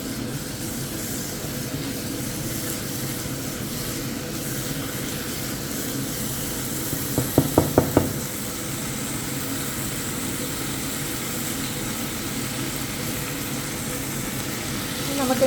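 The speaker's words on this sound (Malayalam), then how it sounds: "നമുക്ക് ഇതിനകത്തൊരു ശകലം ഓയിൽ ഒഴിച്ച് കൊടുക്കാം, എന്നിട്ട് വഴറ്റിയും എടുക്കാം" Tomato thoran sautés in oil with a steady, broad sizzling hiss throughout. A quick burst of sharp taps from utensils lands midway, and a voice talks over the cooking.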